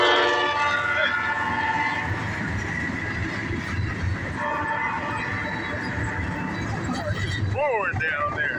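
A northbound CSX freight train rumbles past, loud and continuous throughout, with a horn-like wavering tone near the end and voices talking over it.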